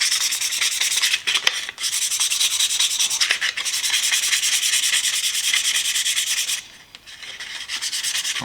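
A Stanley Sweetheart metal level is wet-sanded with 1000 grit sandpaper and WD-40, producing steady close-up abrasive rubbing strokes in long runs with short pauses, with no talking.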